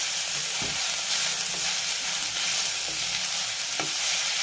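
Methi (fenugreek) leaves sizzle steadily in a hot pan while a spoon scrapes and stirs them in a few distinct strokes, close and continuous, with no talking.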